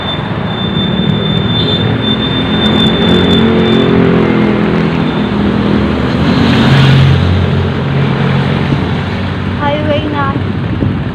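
Car cruising along a highway, a loud continuous road and wind roar from inside the cabin with a constant low rumble, a faint high whine and occasional clicks over it.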